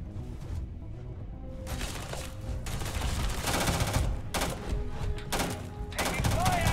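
Gunfire in the sci-fi game Starfield, sharp bursts of shots in rapid clusters with heavy thumps, fairly loud and close, mixed with game sounds and occasional voices.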